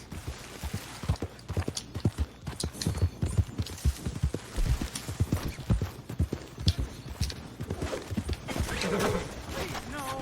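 Horse hooves clip-clop steadily at a walking-to-trotting pace in Red Dead Redemption 2, close and continuous, with a hum beneath.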